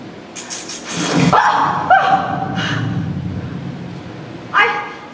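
A small dog yips and barks several times, with a whimpering, whining tone between bursts, loud and close, then one more sharp bark near the end.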